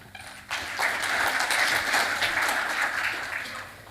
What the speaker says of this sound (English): so a clap for Koki